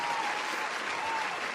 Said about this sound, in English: I have clapping sounds.